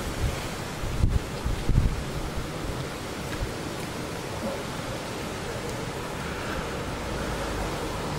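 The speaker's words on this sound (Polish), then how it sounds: "Zrywa się silny wiatr." Strong wind buffets the microphone in heavy gusts during an evening thunderstorm near Łowicz, Poland, with a broad roar like surf in the background and a couple of louder thumps early on.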